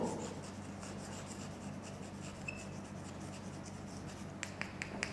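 Chalk or marker scratching steadily across a classroom board during a botany lesson, a continuous soft rasping rub with a few sharp taps near the end, fairly close and heard alone without talk.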